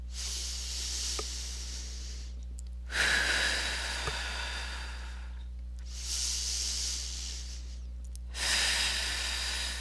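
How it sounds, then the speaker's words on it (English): Slow, deliberate breathing, in through the nose and out through the mouth, gives three long airy exhalations separated by quiet gaps over a steady low hum. "Again, in through the nose, out through the mouth if you can, but don't worry about that if you can't."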